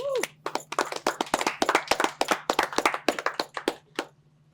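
Clapping from a small audience at a music concert event, a quick run of sharp, separate claps of moderate loudness over a low steady hum, thinning out and stopping near the end.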